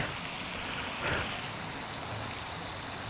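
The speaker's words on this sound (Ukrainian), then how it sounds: "ну, сьогодні дощ." Steady rain hissing on surfaces, a dense even patter throughout, moderately quiet, with no talking.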